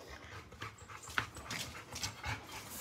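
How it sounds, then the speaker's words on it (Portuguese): A dog pants and whimpers softly nearby, with faint scuffling and brief higher squeaks over a quiet background. "olha que cachorro mais lindo"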